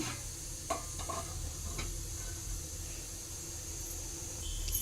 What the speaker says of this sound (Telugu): ఇప్పుడు నేను కొంచెం ఆయిల్ పోస్తాను ఇవంతా వేయించుకోవడానికి అండి